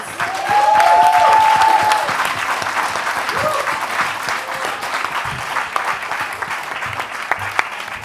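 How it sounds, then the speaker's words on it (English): A panel-session audience gives a loud, sustained round of applause for the panelists, a dense crowd clapping that peaks early and stays steady, with a faint whistle near the start. "Could we have one last round of applause for them, please?"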